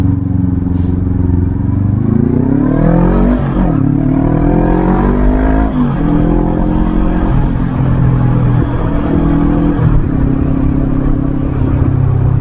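Bristol Venturi 500 motorcycle engine droning loud and steady while riding, its pitch rising and dipping through several gear shifts as the bike accelerates and eases off.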